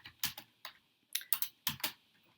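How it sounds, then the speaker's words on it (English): Bursts of typing on a computer keyboard, a quick cluster of key clicks followed by a pause and then several more sharp presses, including one firmer stroke like hitting enter; close and clear with no talking. "Type in Lake Illawarra"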